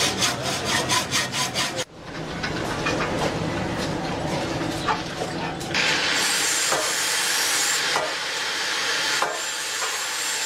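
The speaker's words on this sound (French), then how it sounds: "Nous utilisons la scie pour scier le fer" A hand saw cuts iron in a welding training workshop. Quick rhythmic strokes at the start give way to a harsh, continuous rasping grind that stays loud and close.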